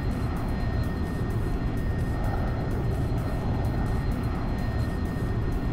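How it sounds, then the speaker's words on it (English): A Viperjet jet engine in the X-Plane 11 simulator spools up for takeoff, a loud, steady roar that continues throughout with no voices. "Can you hear engine sounds there?"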